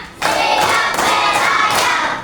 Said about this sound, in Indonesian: Kita tepuk lagi, tepuk 1, tepuk 2, tepuk 3, tepuk 4, tepuk 5.